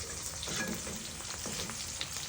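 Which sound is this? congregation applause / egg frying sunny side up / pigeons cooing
egg frying sunny side up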